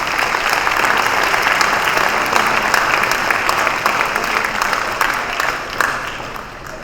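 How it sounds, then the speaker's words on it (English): Steady, dense applause from an audience at a high school hall of fame induction ceremony, honoring committee members; the clapping stays full and even throughout, tapering slightly near the end. "So let's please give them a round of applause."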